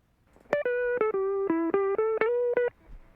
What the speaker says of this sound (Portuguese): Agora vou pegar aqui uma guitarra, um som de guitarra